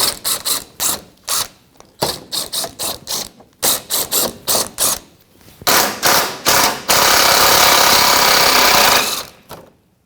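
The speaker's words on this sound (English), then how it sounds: "So 10mm socket, let's just start taking the bolts out." Ratcheting socket wrench with a 10mm socket backs bolts out of the engine splash shield on a 2014-2019 Toyota Corolla 1.8L: loud, close bursts of rapid clicking, stopping and starting, then a longer unbroken whirring stretch near the end.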